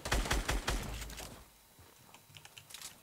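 Gunfire in the original Fortnite Season 1: a rapid burst of close, loud shots rattles for over a second, then fades to quieter scattered pops and background game noise.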